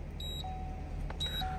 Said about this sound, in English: The vehicle's going to beep and flash.